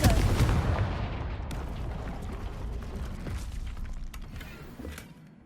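Confringo blasting-spell explosions in the Hogwarts Legacy video game: a loud, dense rumble of blasts opening the clip and tailing off into a sustained crackling, booming roar with scattered sharp bangs.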